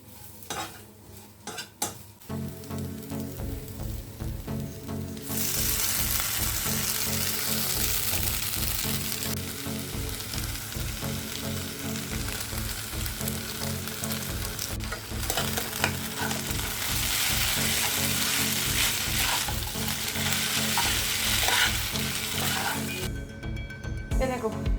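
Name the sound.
vegetables frying and being stirred in a pan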